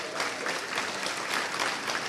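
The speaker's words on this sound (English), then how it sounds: "And help me applaud" Audience applause at an awards presentation during a world congress, a steady dense patter of many hands clapping throughout, moderately loud and continuous with no clear talk.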